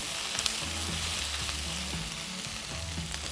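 Lamb shanks with onions and garlic cloves brown in a pan with a continuous close sizzling hiss and occasional soft pops, over a low steady hum and without talking.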